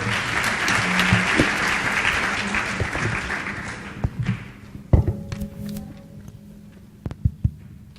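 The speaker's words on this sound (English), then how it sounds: "I think she deserves an applause." Applause from the audience at an annual lecture, dense and sustained for about four seconds, then thinning out into a few scattered claps and thumps.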